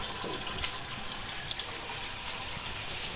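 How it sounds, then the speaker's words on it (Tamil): A washing machine running on an inverter fills with water, giving a faint, steady hiss of inflow with a few small clicks over about three seconds. "பாருங்கள், தண்ணி எடுத்துக்கிட்டு இருக்கு"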